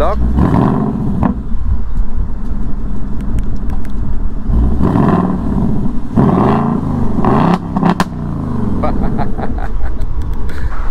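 A 2024 Ford Mustang GT with its 5.0-litre V8 rumbles loud and close, swelling in several rev surges with deep roaring bursts and clattery transients between steadier idle passages.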